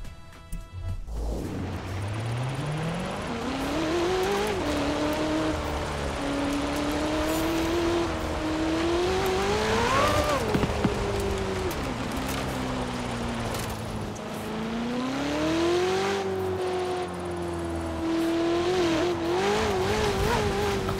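Car drifting in Forza Horizon 4 with a loud engine whose pitch sweeps up and down, long tire squeals layered over it, close and continuous.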